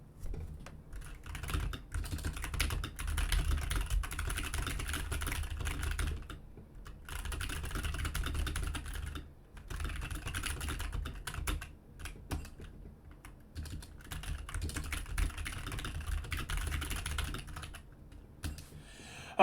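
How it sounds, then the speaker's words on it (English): Continuous fast typing on a half-sized computer keyboard, close and fairly quiet, with dense clicking runs broken by brief pauses. "this isn't even my keyboard. This is my fiance's, like, half-sized keyboard"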